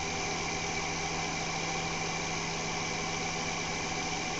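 An experimental three-phase motor spins its rotor up on a potentiometer-controlled supply, giving a steady, loud mechanical hum with a constant tone throughout and no talk.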